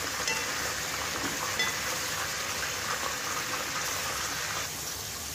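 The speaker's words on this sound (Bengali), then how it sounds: "মশলাটাকে ভালো করে কষিয়ে নিতে হবে।" A steady, close sizzle of masala spice paste frying in a pan with raisins and plums for a traditional chicken roast, continuous and even throughout with no talking.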